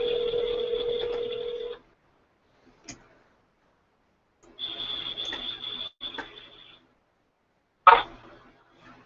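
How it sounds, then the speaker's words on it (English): An outgoing phone call rings out on speaker, with two separate bursts of the ring tone separated by silence, a faint click between them, and a sharp click or pickup near the end. "And Ricky, maybe can we use your phone for the next one, just so people see the call ID"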